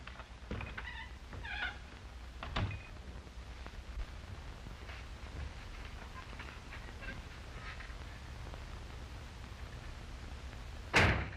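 A door slams sharply near the end after quiet scuffling and a few soft knocks, one loud abrupt bang.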